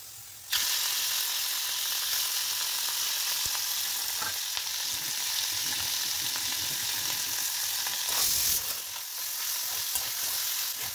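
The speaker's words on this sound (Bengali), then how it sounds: "খুব অল্প তেলে ভাজছি তো," Small mourola fish fry in a little oil in a hot pan, sending out a loud, continuous crackling sizzle that starts abruptly and holds steady. Occasional scraping stirs break through near the end, with no voices.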